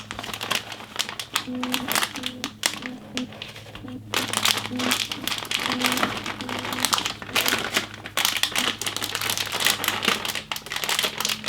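A plastic bag of shredded cheese crinkles and rustles continuously close by while cheese is measured out for a cheesy potato casserole, the crackling steady throughout with a faint background hum.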